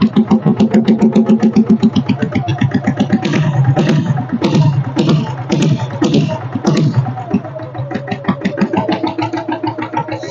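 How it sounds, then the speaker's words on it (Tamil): Close, loud idle of a diesel Royal Enfield Bullet motorcycle, a steady rhythmic thumping beat that varies slightly in pace as the throttle is blipped, heard alone without speech. "ஸோ அந்த வண்டியோட பீட் சவுண்ட் கேளுங்க."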